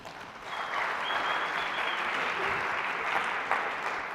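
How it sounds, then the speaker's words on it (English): An audience at the MIT 100K Launch Competition breaks into applause, a full, steady wash of clapping that swells quickly and holds. "Please give me a round of applause for Iceberg Systems"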